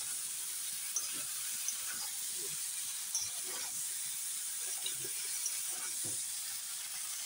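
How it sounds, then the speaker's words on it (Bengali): Jackfruit seeds and Malabar spinach stems fry in a pan with a soft continuous sizzle and hiss, broken by faint scraping stirs at intervals. "পুঁই শাকের ডাঁটা আর কাঁঠাল বিচি দিয়ে আবার একটু ভালো করে নেড়ে ভেজে দেবো"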